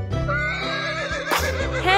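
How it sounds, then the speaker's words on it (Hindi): A horse neighs and whinnies in a long, wavering, high-pitched call, close and loud, with a sharp burst partway through and a trembling tail at the end, with no other sounds. "Horse. घोड़ा,"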